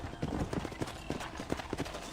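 Horse hooves clip-clopping in the Western video game Red Dead Redemption, a steady, quiet, rhythmic trotting beat near a ranch stable.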